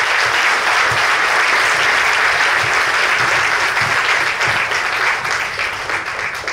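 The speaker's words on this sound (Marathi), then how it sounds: "माझी अशी इच्छा आहे की आपण सर्वांनी मिळून मॅमसाठी एकदा जोरदार टाळ्या वाजवाव्या." Sustained loud audience applause fills a hall after a Soul Urja member's testimonial, dense steady clapping from many hands that tapers slightly toward the end.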